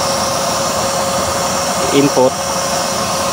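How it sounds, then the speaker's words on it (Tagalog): Steady whirring hum of a small 12-volt blower on a DIY waste oil stove with a 24-hole nozzle and 3-inch chamber, run from a power bank through a 5-volt booster, continuous under a short spoken word and brief clicks. "Pinapagana niya yung 12 volts na blower."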